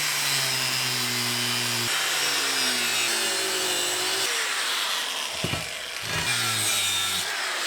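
A Bosch power tool cuts through metal during work on a custom trailer hitch for a first-generation Dodge, giving a loud, continuous whine that shifts in pitch, dips briefly midway, then resumes.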